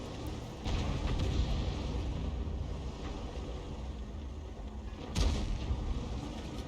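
The E100 tank's gun fires in a World of Tanks-style video game, a heavy boom followed by rumbling engine and battle noise, with a second distant blast near the end.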